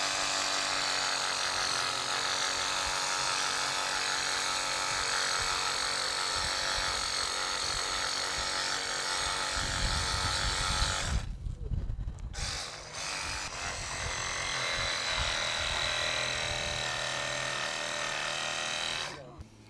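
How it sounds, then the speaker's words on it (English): A Sawzall reciprocating saw cuts through a game animal's tailbone during skinning, a steady loud buzzing with a short break partway through, and people talk over it. "All right, Wayne, let's go ahead and take the Sawzall, reciprocating saw, and cut that tailbone"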